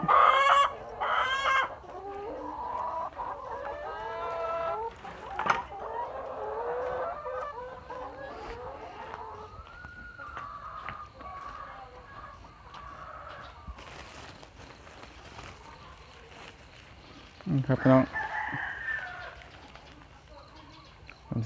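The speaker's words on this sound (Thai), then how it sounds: "ลองเอาข้าวสารห้อยเบิ่งครับ ว่าไก่มันสิกินอยู่บ่ครับผม" Egg-laying hens on a farm cluck and a rooster crows, with repeated calls near and moderately loud, a louder burst of clucking near the end, and faint talk in the background.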